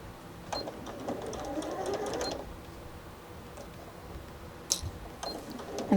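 A sewing machine runs in quiet bursts while stitching a fabric strap for a sewing project, a soft rapid whirring for about two seconds, then scattered light clicks and short taps near the end.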